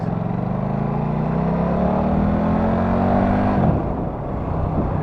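KTM RC8 V-twin superbike engine under way on the road, a loud sustained drone rising steadily in pitch under acceleration, then dropping abruptly as the throttle closes and settling into a lower rumble with wind rush.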